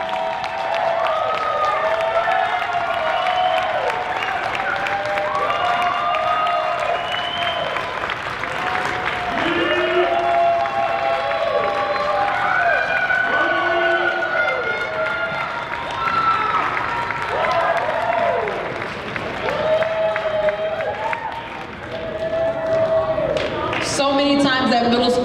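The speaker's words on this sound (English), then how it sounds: "I just want to give them one more round of applause as they make their way out" Steady applause and cheering from a school auditorium audience for middle school talent show performers as they leave the stage, continuous clapping with scattered shouts and voices throughout.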